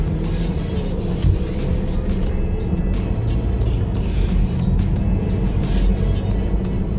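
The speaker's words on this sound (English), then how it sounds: "find that release point, hold it there, give it gas, and slowly let out the clutch" Manual transmission car pulling away as the clutch is slowly released, a loud, steady engine drone from inside the cabin that rises slightly as the car gets moving.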